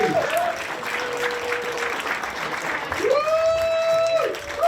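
An audience in a comedy club at Tommy's claps loudly for the MC, Johnny Mac. The applause is sustained and close, and thin whistle-like tones rise over it near the end.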